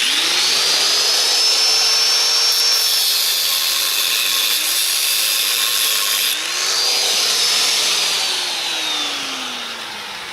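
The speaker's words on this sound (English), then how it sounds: "I just cut a piece of chain" A steady, loud power-tool whine runs alone for about ten seconds while cutting a piece of chain for motorcycle ramp safety chains, with a slowly wavering pitch that eases off near the end.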